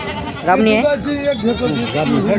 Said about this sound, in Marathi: मित्रांनो शेळी आहे